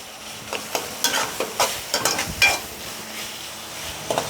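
Noodles sauté in a hot pan with a constant sizzle, overlaid by a quick series of spatula scrapes and clacks against the metal, close and fairly loud, with no one talking.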